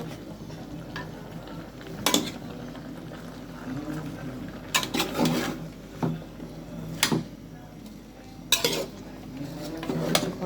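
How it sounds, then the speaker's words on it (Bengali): A utensil stirs spinach (pui shak) and egg in a metal cooking pot, sharp scraping clinks recurring every couple of seconds over a soft background sizzle, close and moderately loud. "এখন এটা আবার নাড়া দিব। এখন মিক্স করবো।"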